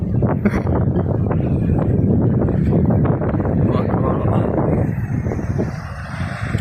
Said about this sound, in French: le bruit que vous entendez, c'est la vidéo que j'ai faite sur les cascades